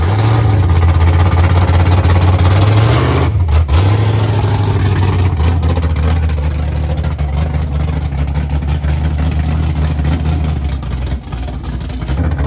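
An old drag car engine revs loudly and steadily at close range, a deep rumbling roar that dips briefly and then climbs back, holding a heavy, continuous growl throughout.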